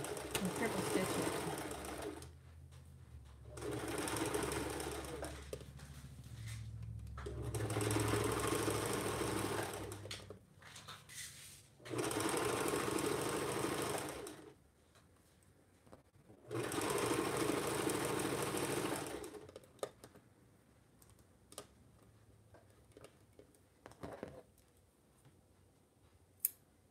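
A sewing machine triple stitches a stress point, running back and forth in several loud whirring bursts of a few seconds each with quiet gaps between, and faint handling clicks in the pauses.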